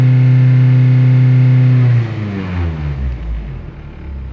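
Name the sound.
Toyota Celica engine revving to about 3,500 RPM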